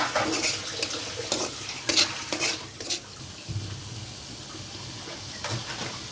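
Jujube and tamarind pickle with vinegar being stirred in a pan, giving a steady sizzle broken by scraping strokes and a few clanks of utensil on metal, with no talking.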